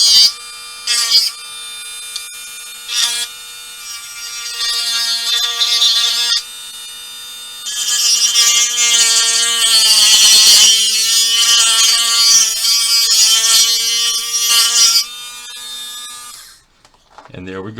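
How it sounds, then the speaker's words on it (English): A sanding wheel grinds the edge of a clip, giving a steady high-pitched whine that runs for most of the stretch with a few brief dips and ends in a short pause. "It's a pretty smooth edge actually with the sanding wheel going."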